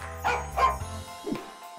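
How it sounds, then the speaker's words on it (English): A toy robot dog with sparkly metal inserts and mechanical eyes gives a few short, yappy electronic barks, close and clear with no talk over them. "Wow, a robot dog."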